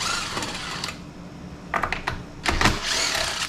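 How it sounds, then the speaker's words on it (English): A 5/16 socket wrench works the top cover bolts off a curb lawnmower, giving short bursts of rapid metallic clicking and rattling, close and moderately loud, separated by quieter pauses with faint background noise. "So the first thing we gotta do is gotta get this top cover off. Got a 5/16 socket on here."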